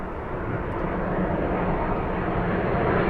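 An Aer Lingus airliner inbound from Dublin passes with a steady, moderately distant jet-engine rumble that swells slightly, broad and continuous, with no voices.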